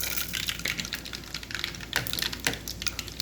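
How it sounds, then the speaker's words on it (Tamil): Mustard seeds dropped into hot oil for a cabbage stir-fry crackle and pop in quick, irregular ticks over a faint background hiss. The sound is close and fairly quiet, with no talking. "எண்ணெய் காஞ்சிட்டு கடுகு சேர்த்துருக்காங்க"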